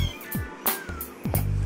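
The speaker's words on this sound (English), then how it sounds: "Here's the kitty." Domestic cat meowing close by, a few short voiced calls spread across under a brief burst of background noise.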